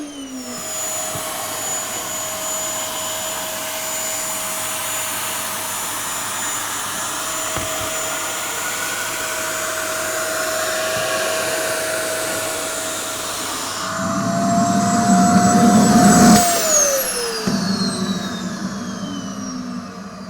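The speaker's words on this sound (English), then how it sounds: "using a vacuum cleaner with a stocking over the end, remove the excess scatter for recycling" A vacuum cleaner with a stocking over the nozzle sucking loose scatter off a model railway layout, a steady whining motor drone that grows louder and rougher briefly, then its pitch drops as it winds down.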